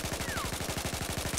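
Rapid automatic gunfire from the video game Battlefield 4 hammers out in a fast, even burst of shots, loud and continuous for the whole moment.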